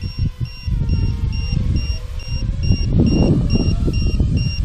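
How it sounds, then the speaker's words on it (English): Steady high-pitched low-battery alarm beeps from an Eachine Wizard X220 racing drone repeat at an even, quick rhythm throughout, over a loud low rumble of wind and motor noise. "It shouldn't really be beeping like that. I think that's the alarm for the battery."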